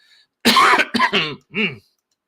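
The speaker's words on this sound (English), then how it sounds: "I have to cough because it's just how voices work" A close, loud cough followed by a couple of shorter throaty coughs, with brief gaps between them.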